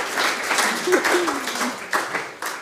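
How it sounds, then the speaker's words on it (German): Audience applause at a talk on friendship, a steady crowd clapping with a few sharper individual claps, a voice briefly heard under it. "wir klatschen einfach jedes Mal"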